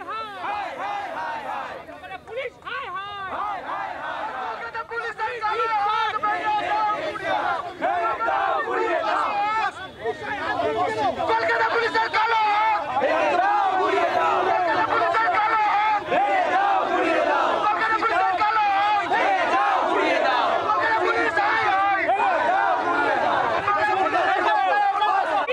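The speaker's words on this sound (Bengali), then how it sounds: "উঠছে স্লোগান।" Junior doctors at a protest rally chant slogans in unison, a loud, rhythmic crowd roar that swells after the first few seconds and holds steady with chatter mixed in.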